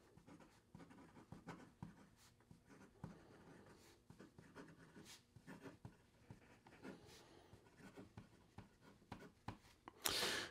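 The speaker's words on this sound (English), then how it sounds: "here we go with the rest of the writing sample." Conklin Endura Deco Crest fountain pen with a 1.1 stub nib scratching across paper, faint soft strokes and taps in an uneven rhythm, close and quiet with no voices.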